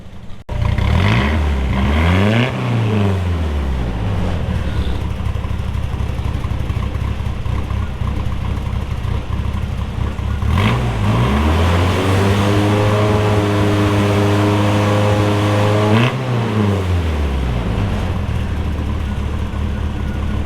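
A Suzuki Samurai engine revs loudly and close, rising and falling through several long sweeping revs with steady idle between them, after its fuel pressure was turned up; no talking.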